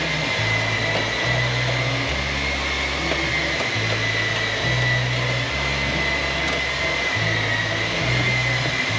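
Workshop fans run steadily through a hot garage, a constant broad whir with low, pulsing hum bands, and a buffing machine drones along underneath, all at an even level with no talk.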